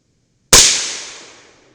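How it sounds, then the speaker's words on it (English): A single suppressed shot from a 300 BLK CMMG rifle with an 8-inch barrel cracks sharply after a moment of silence, then decays over about a second. "I have put on the suppressor as well, so let's see if our scope settings are about correct. I'm going to shoot for the center dot."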